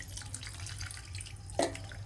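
Tap water running at a kitchen sink as vegetables are washed, a soft continuous trickle with a brief louder splash near the end, close and without talk.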